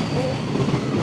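A train rolls past near a hydrangea-viewing spot in Japan, a brief, loud steady rumble with faint wheel clatter and a thin squeal, heard alone.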